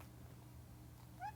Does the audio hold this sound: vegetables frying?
no